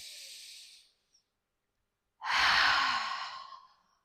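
A slow, deep breath let out in one long, audible exhale lasting over a second, close and clear, with a fainter breath just before it and no talking.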